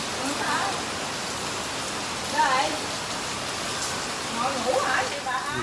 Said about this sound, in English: But I like the rain.